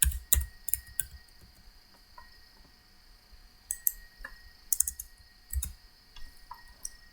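Keys tapped on a computer keyboard while entering a quiz question and answer options into a Google form, with scattered short clicks and brief pauses between bursts, close and fairly quiet with no talking.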